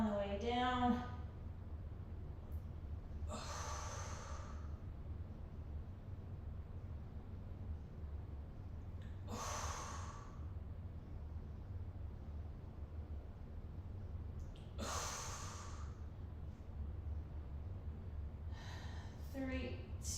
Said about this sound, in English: I usually exhale on the way up. Inhale on the way down.